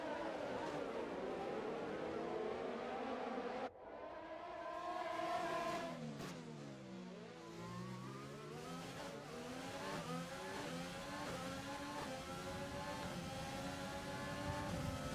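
Race cars roar past in the F1 2020 video game at the Singapore night race, with engines rising and falling in pitch as cars pass close and accelerate. A commentator talks over the engines throughout.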